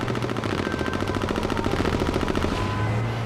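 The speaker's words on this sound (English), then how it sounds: "He's got the machine gun." Rapid, sustained machine gun fire in the video game H1Z1, a dense unbroken stream of evenly spaced shots, loud and close throughout the short burst, with no talk over it.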